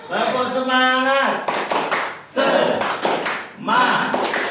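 Indoor audience of adults doing a rhythmic spirit clap, several quick clusters of claps in a set pattern, close and lively, mixed with a leader's voice and group chanting.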